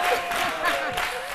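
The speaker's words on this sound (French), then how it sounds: "on applaudit très fort Didier Drogba." A television studio audience breaks into a short burst of applause and light cheering, with voices mixed in under the clapping.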